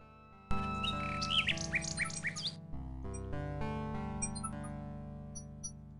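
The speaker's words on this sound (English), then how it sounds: "A nightingale perches on a high branch of the tree. She sings the most beautiful song Alexander has ever heard." Nightingale song in a video game, rapid warbling and trilling chirps layered over steady background music, loud and continuous for most of the stretch, then fading into the music alone.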